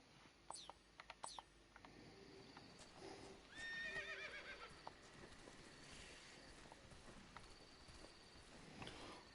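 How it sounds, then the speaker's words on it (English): A horse whinnies in the video game Metal Gear Solid Delta: Snake Eater, a rising, wavering call amid a busy, cluttered background of thuds and clatter, moderately loud. "Why can I hear a horse?"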